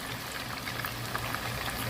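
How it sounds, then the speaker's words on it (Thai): Dense crackling sizzle of sea bass pieces deep frying in hot oil in a wok, a constant bubbling hiss heard up close. "ตั้งน้ำมันเดือด เอาลงเลยครับ"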